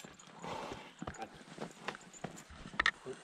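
A stallion's hooves clip-clop on hard ground in a few uneven, close steps, with faint background noise and brief voices.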